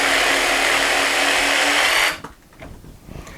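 A DeWalt DCS331 cordless jigsaw cuts at speed setting 3 with a loud, steady buzzing saw whine for about two seconds. It cuts off abruptly, and only faint clatter and handling noise follow.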